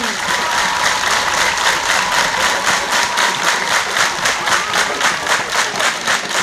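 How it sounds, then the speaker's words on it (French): Steady, dense applause from a theater audience at a traditional-dress pageant final, continuous and loud for the whole stretch with fast even clapping and no pauses. "Et ça s'applaudit."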